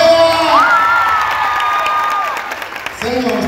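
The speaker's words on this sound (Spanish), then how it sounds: "¡Aplausos para ella!" A crowd at a lively comedy show claps and cheers for a woman, loud and close, with whoops mixed in, the noise thinning toward the end before a voice cuts back in.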